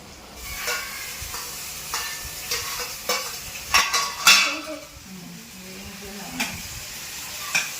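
Onions sizzle and hiss in a hot pan while a spoon scrapes and clinks against the metal, steady frying noise up close.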